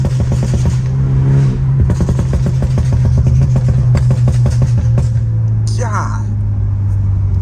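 Straight-piped BMW F30 328i with a stage 2 tune revs hard in the middle of a road, loud pulsing exhaust blasts rising and falling with crackling pops near the end, while someone talks over it.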